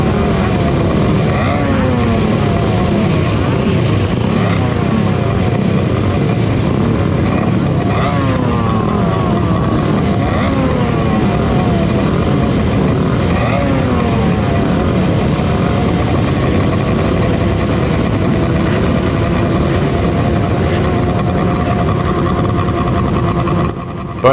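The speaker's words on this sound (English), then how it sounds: "I've added some proper two-stroke revving goodness." Several vintage two-stroke motorcycle engines revving up and down over and over, a loud, continuous mechanical drone with rising and falling pitch throughout.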